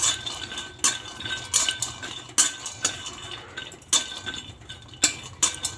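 Peanuts dry-roast in a pan for homemade sattu, with a spoon stirring and scraping in a steady rhythm, close and clear, and sharp metallic clinks recurring about once a second.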